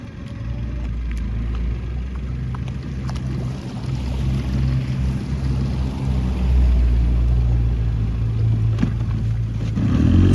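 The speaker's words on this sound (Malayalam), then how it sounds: "സിംഗിൾ എഞ്ചിൻ വെച്ചൊരു ബോട്ടാണിത്." A single-engine small fishing boat motor runs at sea off the Maldives on a tuna-fishing trip, giving a loud, steady low throbbing drone close by for the whole stretch, with no voices.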